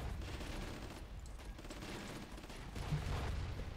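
Tank-versus-tank gunfire in the flash game Warfare 1944, a dense run of rapid overlapping shots and bursts, loud and continuous throughout, with no voices.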